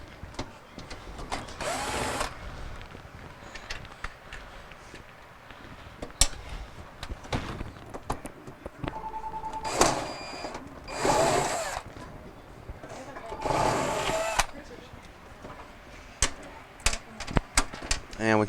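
Screws come out of a Samsung refrigerator's auger and shelf assembly in a few short bursts of a nearby power screwdriver whirring, separated by quieter handling clicks and clatter, with a little speech in the background.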